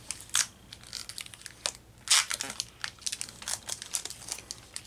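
Trading cards being handled, with crinkling and crumpling of wrappers and packaging in irregular bursts, close and fairly loud, with no speech.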